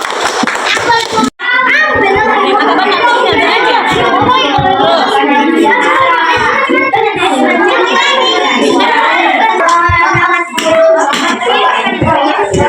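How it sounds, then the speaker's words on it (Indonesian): Children in a classroom clap their hands for a group during a lesson, a dense, continuous patter of many small hands lasting several seconds, with a teacher's voice and kids' chatter mixed in. "tepuk tangan untuk kelompok 1"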